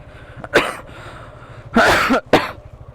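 A person coughs three times, loud and close, with two short hacks and a longer, harsher cough in between, against a low steady background hum.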